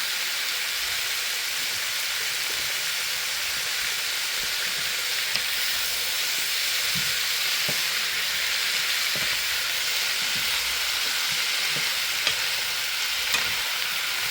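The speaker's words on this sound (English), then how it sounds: "So I've been sauteing my veggies for about 2 minutes now, 2 to 3 minutes." Broccoli and carrots sauté in a pan before soy sauce goes in, giving a steady, moderately loud sizzling hiss that holds for the whole stretch, with a few faint stirring clicks and no talking.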